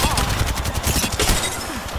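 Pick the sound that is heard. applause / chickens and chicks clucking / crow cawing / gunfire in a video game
gunfire in a video game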